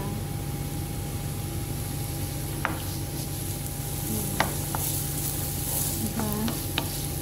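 Carrots and onions fry in a pan for a Russian beetroot soup, with a steady, close sizzle throughout. Faint clinks and scrapes of stirring rise above it now and then, with no talking.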